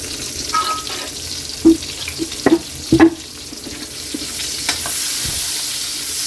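Garlic and onion fry in oil for sweet and sour chicken, a steady close sizzle broken by a few sharp spatula clicks and stirring knocks, with no voices.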